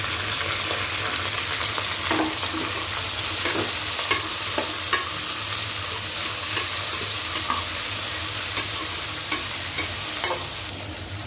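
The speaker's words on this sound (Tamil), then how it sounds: "வெங்காயத்தை எல்லாத்தையும் போட்டுடுறேன்." Sliced onions frying in hot oil and ghee for a jackfruit biryani, a constant dense sizzle with occasional soft scrapes and taps of a spoon stirring the pan.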